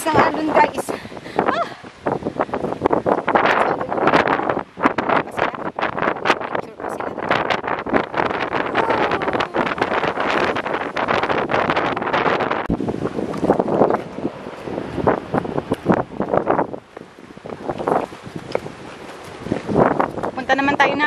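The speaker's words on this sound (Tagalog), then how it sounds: "Ang lakas ng alon guys." Strong waves surge and crash inside Thunder Cave at Cape D'Aguilar, a loud, continuous roaring wash with repeated swells and gusts of wind buffeting the microphone, while a person speaks now and then.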